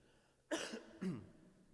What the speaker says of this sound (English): if I begin coughing uncontrollably and pass out, just ignore it